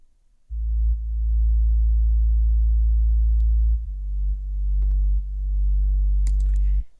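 A deep sub bass synth from Arturia's Yangtze instrument in Logic Pro drones in long sustained notes, with a few faint clicks above it and no talking.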